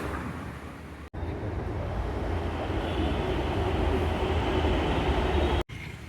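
Metro train running near a metro station in Pune, a steady loud rumble with rail roar that holds throughout, broken by two brief dropouts.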